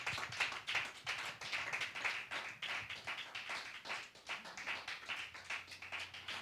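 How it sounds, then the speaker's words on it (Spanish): Faint clapping from a church congregation praising God, rhythmic and somewhat uneven, continuing steadily without talk. "And give an applause to God."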